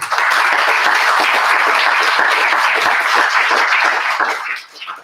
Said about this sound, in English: You'll go ahead and give her a round of applause.